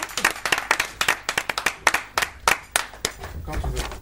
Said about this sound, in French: Allez, on va encore les applaudir un petit peu.